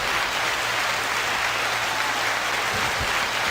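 Steady applause from a studio audience greeting a music commentator, dense and continuous throughout at moderate level, with a low hum underneath and no talking.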